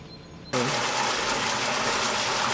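Rushing water flowing into the emptied Goinger Badesee in Tyrol, supplied by the Sinnersbach from the Kaisergebirge; after a quiet start, a steady, loud gushing wash sets in suddenly and continues without a break.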